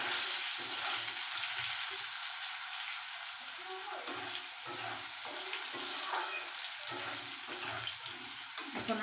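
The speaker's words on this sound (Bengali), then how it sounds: "আলু লাল লাল করে ভাজা হয়ে গেছে" Turmeric-coated potatoes, fried until reddish, hiss in a pan under a constant sizzle, with regular soft scraping thumps from stirring running through it.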